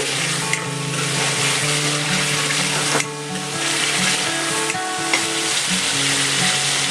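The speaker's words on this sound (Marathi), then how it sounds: "मसाला छान तेलामध्ये शिजवून घेऊ।" A strong, steady sizzle of onion-garlic masala frying in oil fills the pan throughout, with occasional stirring knocks and a faint tonal background running under it.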